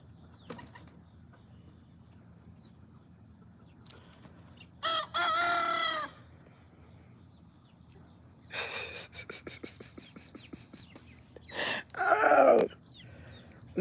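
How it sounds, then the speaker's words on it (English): Three roosters outdoors in the morning: a loud nearby crow, then a rapid run of clucks and another crow, set against a steady chorus of crickets and insects. "It's three roosters, y'all."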